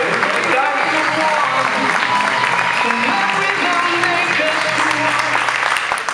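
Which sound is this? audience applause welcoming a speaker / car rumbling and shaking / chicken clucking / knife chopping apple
audience applause welcoming a speaker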